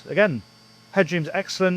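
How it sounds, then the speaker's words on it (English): The generator of a Galeon 620 Fly yacht whirs as a steady low hum in the engine room, running continuously under a man's close speech. "You can hear the generator whirring away behind me"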